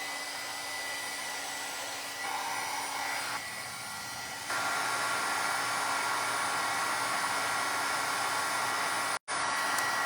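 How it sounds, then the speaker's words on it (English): A heat tool blasts a steady, loud whooshing roar while heat setting distress oxide ink on a stencilled card, shifting slightly in tone as it moves, then cutting out briefly near the end; no one speaks. "So now just heat set that."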